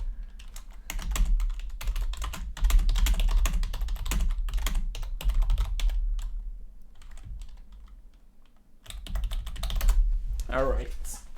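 Dense, rapid clatter of keys on a computer keyboard during programming, with bursts of fast typing broken by short pauses and a brief break near the end.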